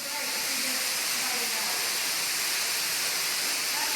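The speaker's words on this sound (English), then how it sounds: "Look at this waterfall, y'all." An underground waterfall inside a cave gives a steady, full roar of rushing water that fills the space evenly without pause.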